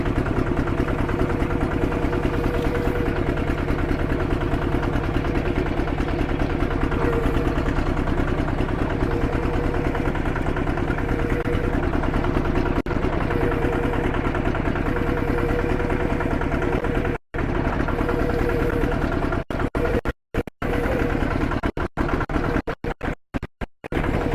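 Homemade NewTech tractor engine, Thai-built, running at low throttle while clearing land: a steady, loud mechanical drone that holds for most of the stretch, then breaks up into several abrupt cut-outs near the end.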